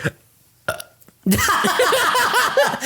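A loud, drawn-out burp rolls on for over a second and a half in a casual podcast setting. It comes just after a couple of brief, quieter sounds.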